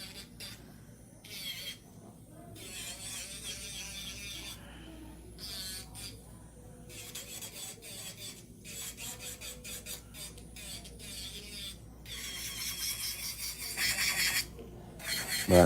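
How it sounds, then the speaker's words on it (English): A nail drill bit filing acrylic on a fingernail, making intermittent buzzing, rasping bursts that start and stop, moderately close, with pauses between passes. "I'm going to remove more acrylic if I lean this drill bit inward"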